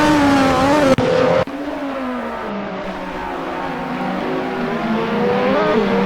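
Turbocharged Lotus 98T race car in a racing video game roaring down the straight at Interlaguna-style Interlagos, a loud sustained engine note with rising and falling harmonics, briefly cut twice early on as gears change.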